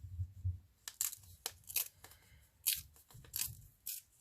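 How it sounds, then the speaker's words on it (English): Paper is torn straight across the top for a Christmas collage gluebook, a series of short crisp ripping and crinkling bursts, close and quiet with brief pauses between them. "Just tear across the top, because that's straight edge"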